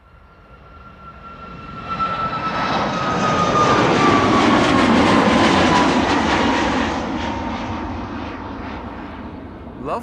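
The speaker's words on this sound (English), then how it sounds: "The Lot Ithaca livery, MAX 8 737, 4 years old" A four-year-old LOT Boeing 737 MAX 8 in Ithaca livery at Amsterdam Schiphol swells into a loud, broad jet engine roar with a whining tone sliding downward, peaking midway and easing slightly while staying strong.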